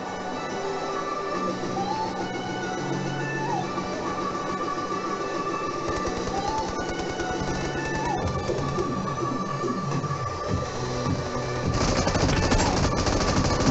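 Rapid submachine gun fire from an MP40 in the Free Fire video game, dense crackling bursts over busy game noise, growing louder and heavier near the end, with no talking.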